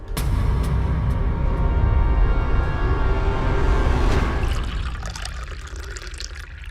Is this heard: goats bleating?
no